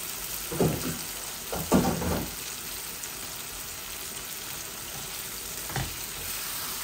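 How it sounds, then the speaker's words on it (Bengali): Chicken livers dropped into hot spiced oil in a pan, frying with a steady sizzle and a few louder spatters and stirring scrapes near the start. "এখন আমি এই কলিজাগুলা দিয়ে দিচ্ছি"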